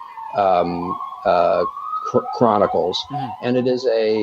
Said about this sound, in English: I'm sorry if you hear that siren outside.